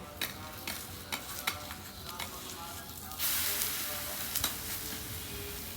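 Sweet pude cook on a heavy hot tawa griddle, a quiet hiss with a few light taps early, then a stronger sizzle rising midway and holding to the end.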